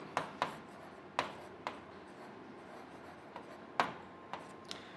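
Pen strokes tapping and scratching on paper during a pharmacology lecture, several short distinct ticks and scrapes at irregular intervals, close and fairly faint, with no talking.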